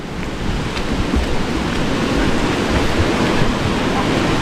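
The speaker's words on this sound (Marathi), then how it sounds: "इकडे आपली नदी आहे बघा आता पाऊस जरा वाढला आहे म्हणून पाणी पण जरा वाढलं आहे बघा" A village river in the Konkan, swollen after heavy rain, rushes with a broad, continuous roar of flowing water, loud and steady throughout.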